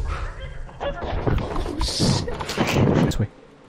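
Dog creatures in the video game Lethal Company growl and snarl, low and rough, mixed under game noise and overlapping talk from players.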